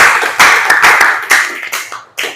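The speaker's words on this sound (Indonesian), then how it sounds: "tepuk tangan buat jawabannya." A class of students claps for an answer in a high school PE lesson, a close, loud burst of uneven clapping that thins into a few scattered claps before a last short one.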